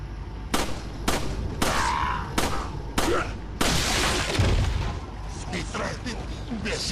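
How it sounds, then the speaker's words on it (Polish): Repeated loud gunshots in the video game Resident Evil 4, about six sharp cracks in quick succession with a burst of sustained fire midway, ringing out over low background noise. "Sześć strzałów, gdzie po jeden trup."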